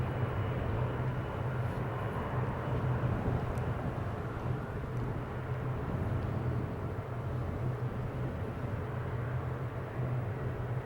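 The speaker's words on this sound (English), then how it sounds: "So let's follow the 777 towards line up on the runway 24." A Boeing 777 airliner taxiing toward runway 24 at Amsterdam airport, heard as a steady low engine rumble and broad hiss that holds evenly throughout, fairly distant.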